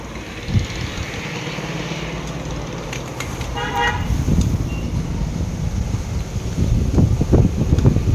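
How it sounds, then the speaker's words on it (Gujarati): Strong cyclone wind buffets the microphone in low, gusty rumbles that grow heavier toward the end, while a vehicle horn toots briefly in the distance. "જુઓ ગાઈસ કેટલો પવન છે"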